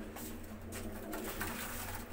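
Pigeons coo softly in a pigeon loft, their low murmuring calls repeating under a faint background hiss.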